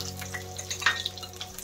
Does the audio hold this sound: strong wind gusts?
no